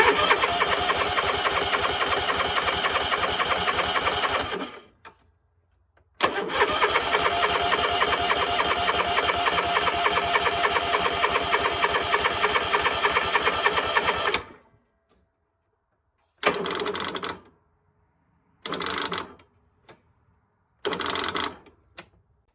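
A zero-turn mower engine cranks and catches after a jump-start on its dead battery, running loud and steady for about five seconds, cutting out, then restarting and running for eight more before several short bursts of revving.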